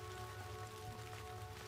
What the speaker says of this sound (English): I feel like the rain's getting heavier.